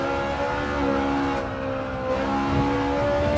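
Race car in Gran Turismo 7 with a sustained engine whine and tonal tyre squeal holding steady through a corner, loud and continuous, with a brief shift in pitch midway and no talking.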